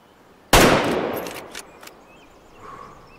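A single loud rifle shot fired at a bighorn sheep while hunting in Way of the Hunter, with a sharp crack and a long rolling echo that fades away, followed by faint outdoor ambience.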